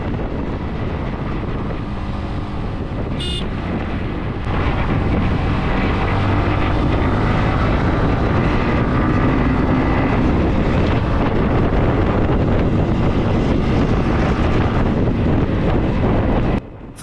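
A 2025 Yamaha MT15 150cc motorcycle rides along, its engine drone buried under loud, constant wind roar against the microphone. The noise steps up slightly partway through and continues without voices.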